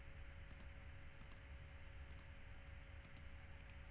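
Computer mouse buttons clicking while working in CAD software: about ten quiet, sharp clicks, mostly in close pairs spaced through the stretch, over a faint steady hum with no talking.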